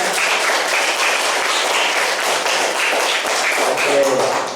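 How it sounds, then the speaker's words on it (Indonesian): Applause from the audience of a talk show on periodontal disease and tartar honours a doctor, a steady crackling patter of many hands close by, lasting the whole stretch with a faint voice rising near the end. "Tepuk tangan buat dokter Henry Setiawan."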